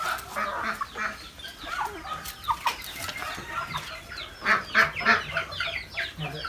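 Native country chickens at a low-cost coop cluck nearby in short, uneven bursts, several birds overlapping, with the calls growing louder toward the end.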